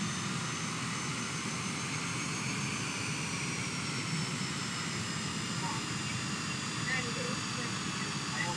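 A plane's aircraft engine runs steadily while the plane is being parked at night on an airport apron, a continuous droning roar with a high whine, heard from a moderate distance without any pause.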